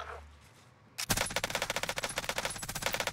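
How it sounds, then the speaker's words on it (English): Nail gun in Call of Duty Warzone on Rebirth Island fires in a rapid, sustained burst of sharp, evenly spaced shots after a quiet moment, loud and close, with no talking. "It's called the nail gun."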